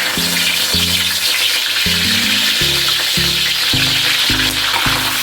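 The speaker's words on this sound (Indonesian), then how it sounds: "Oke, ditumis ya daun kunyit, daun salam, dan daun jeruknya." Turmeric, bay and kaffir lime leaves sauté in a pan for spicy-sweet chicken satay, giving a steady close sizzle of frying with occasional stirring, alone and without talk.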